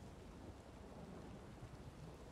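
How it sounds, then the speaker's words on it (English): Steady, dense rumble of a storm with rain and low thunder in the video game The Witcher 3, filling the whole moment, no voices, even and continuous throughout. "storm's been going for a long while now."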